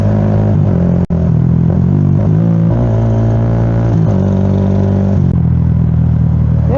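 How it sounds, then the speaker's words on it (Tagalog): Motorcycle engine running steadily up close during a ride, a loud continuous drone with small throttle changes and a sharp click near the start. "Ang tanong, naririnig niya kaya itong makina to?"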